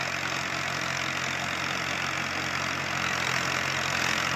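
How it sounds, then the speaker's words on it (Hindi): An old-model Universal tractor pulling a large rotary tiller (rotavator) runs under load, giving a steady, continuous engine drone with a rough, knocking edge throughout, close and fairly loud, with no talking. "ये देखो कि ट्रैक्टर जोर कितनी लगा रहा है।"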